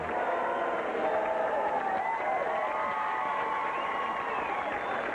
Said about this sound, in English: And the crowd singing happy birthday.